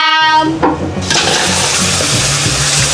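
Water poured into a pot for cooking paksiw na pata, a sharp splash that swells into a loud, steady gushing rush.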